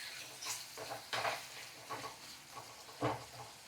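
Tomato mint chutney frying in a pan is stirred with a utensil, giving soft scraping strokes at an uneven rhythm over a faint sizzle, close and fairly quiet.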